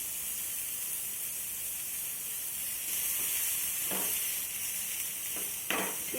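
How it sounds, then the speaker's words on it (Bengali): Chopped onion fries in a pan of oil left from frying fish, seasoned with black cumin, giving a faint steady sizzle with a few soft scraping stirs near the end. "পেঁয়াজটাকে আমি নাড়াচাড়া করে ভেজে নেব।"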